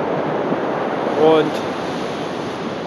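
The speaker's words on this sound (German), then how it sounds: "ihr seht hier im Hintergrund die Brandung" Surf breaking on the coast of Sicily, a steady broadband wash of waves that fills the whole clip, with a brief word of speech over it partway through.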